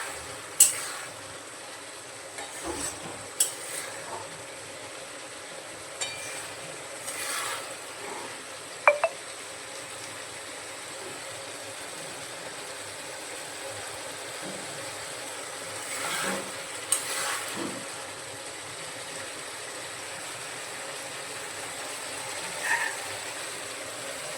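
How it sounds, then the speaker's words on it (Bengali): Fried maya fish stirred with boiled potatoes in a pan makes a low, steady sizzle, broken by occasional scrapes and taps of a spatula. "ভেজে রাখা মাছগুলো দিয়ে ভালো করে কষিয়ে নেব।"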